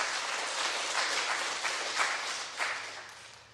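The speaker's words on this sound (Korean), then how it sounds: "우리 서로를 위해서 박수 한번 하겠습니다." Church congregation applauding during a worship service, a crowd clapping together in a sustained burst that slowly fades toward the end, no talk over it.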